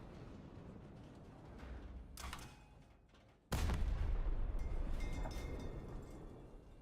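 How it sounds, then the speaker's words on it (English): Cannon fire in a video game, with a sharp blast landing partway through followed by a loud, sustained rumbling roar, preceded by quieter crackling bursts and steady background noise. "I am landing my cannon shots, my dude"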